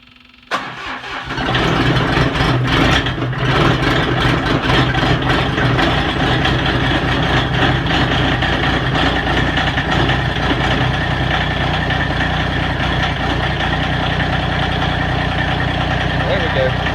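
A Massey Ferguson GC1705 compact tractor cold-starts in snowy weather: a brief crank catches, then the small engine settles into a loud, steady, close idle that runs on without a break.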